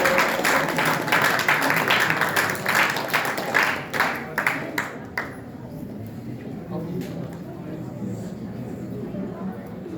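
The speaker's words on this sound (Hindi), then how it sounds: "इस कार्यक्रम की भव्य शुरुआत के लिए जोरदार तालियां।" Audience applause opening a university drama club event, a loud burst of many hands clapping that fades out after about five seconds, leaving crowd murmur and speech.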